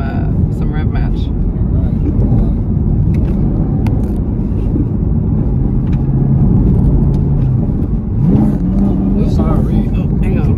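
A 2024 Camaro ZL1 Collector Edition V8 rumbles loudly and continuously from the cabin, with a brief rising rev blip near the end, under people talking.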